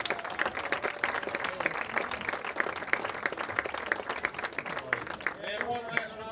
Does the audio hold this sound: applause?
yes